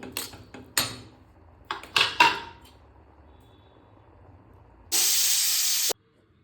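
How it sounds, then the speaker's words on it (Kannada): A pressure cooker of tomato bath with its lid closed lets out one loud, steady hissing whistle lasting about a second, preceded by a few scattered clinks and knocks. "ಆಮೇಲೆ ಕುಕ್ಕರ್ ಲಿಡ್ನ ಕ್ಲೋಸ್ ಮಾಡಿ ಒಂದು ಕೂಗಿಸ್ಕೊಳ್ಳಿ"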